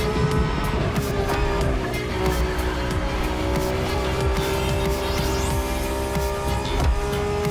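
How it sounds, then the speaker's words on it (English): Lamborghini race cars roar along in The Crew Motorfest, a loud, steady engine drone with sustained revving, faint tire squeal and occasional passing whooshes, with no voices over it. "It's like a speed race through the story of Lamborghini, one of power and innovation."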